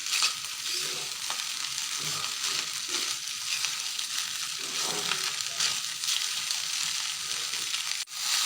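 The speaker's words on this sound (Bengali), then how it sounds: "এভাবে ভাত ভাজি করলে ভাতটা অনেক সুস্বাদু হয়।" Leftover rice stir-fried with vegetables in a pan makes a constant close sizzle and frying hiss, with light stirring scrapes throughout and no talking.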